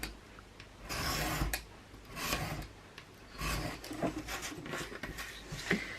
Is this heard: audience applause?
no